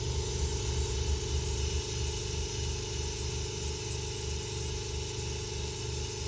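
An airbrush sprays a light dusting of Alclad II chrome lacquer, giving off a steady, unbroken hiss of compressed air with a low hum underneath. No one talks over it.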